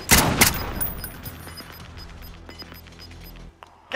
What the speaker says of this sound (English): He's taking shots.